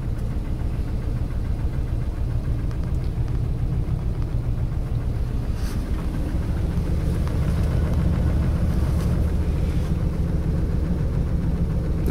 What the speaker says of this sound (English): you might hear it's got a little exhaust tick